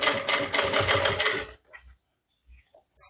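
Sewing machine stitching a fabric handbag, running in a loud steady burst for about a second and a half, then stopping, with faint handling clicks and a brief restart near the end.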